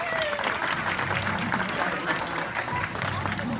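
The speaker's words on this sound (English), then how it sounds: "give her a big round of applause" Audience applause at a tiger show in Queensland, Australia, with a steady wash of clapping from a crowd, loud and sustained throughout, with faint voices and whoops mixed in.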